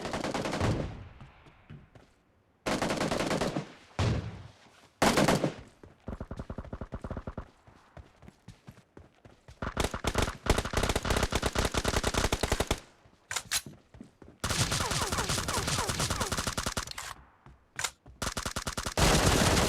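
Gunfire in a PUBG Mobile team deathmatch: loud, close bursts of rapid automatic fire broken by short silences, with some single sharp shots between the volleys.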